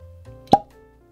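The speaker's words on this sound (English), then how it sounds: "Nice cork pop." A cork pops out of a bottle of Larceny Barrel Proof bourbon in one sharp, close hollow plop, with brief quiet handling noise before and after.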